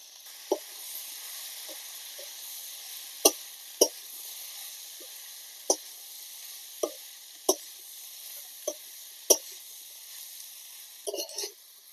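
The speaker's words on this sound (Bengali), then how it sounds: "এখানে আমি সবকিছু 2 মিনিটের মতো আবার ভেজে নিয়েছি" Garlic and dried chilies fry with shrimp paste in a pan, giving a soft continuous sizzle broken by scattered pops and sharp spatters, steady and close with no talking.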